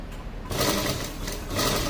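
A sewing machine stitching cloth runs in a close, steady whirring burst that starts after a brief quiet moment and continues evenly, with no talk over it.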